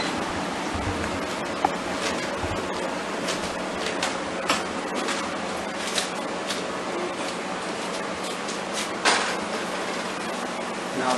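Pasta water poured from a cooking pot through a colander makes a steady broadband rush and splash, moderately loud and continuous with small clinks, and no voices.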